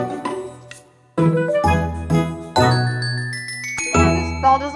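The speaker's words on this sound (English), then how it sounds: "this bell doesn't want to ring properly" A dinner bell rung by hand gives several bright, ringing strikes in uneven bursts, some loud and clanging with a long shimmering decay, others lighter, with a short quiet gap after the first few.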